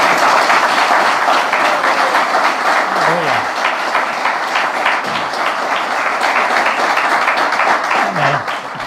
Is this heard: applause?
yes